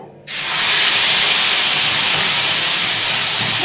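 Onion and tomato paste drops into hot oil, which erupts into a loud, dense sizzle that stays strong and even.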